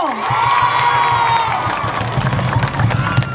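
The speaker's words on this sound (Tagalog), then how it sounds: "Kung tama, may palakpak naman kayo." Rally crowd in Tondo cheering and clapping, a steady roar of voices with scattered applause that stays loud throughout, with some shouting on top.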